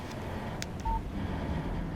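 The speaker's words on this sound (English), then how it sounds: "Text message from Barry" A short electronic phone alert for an incoming text message in the video game Alan Wake, a single brief tone over quiet game ambience.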